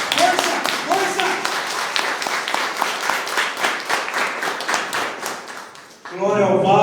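A Catholic prayer group in Varginha, Minas Gerais, Brazil, applauds, a dense burst of many hands clapping over several seconds that fades out, with a voice speaking loudly in Portuguese over it and singing starting at the end.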